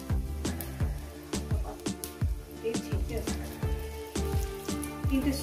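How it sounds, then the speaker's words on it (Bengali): Three dried red chillies frying in hot oil with five-spice seeds give quick, uneven crackles and pops close up, with talking and a steady background underneath. "3টে শুকনো লঙ্কা দিয়ে দিলাম। এবার কয়েক সেকেন্ড ভেজে নেব।"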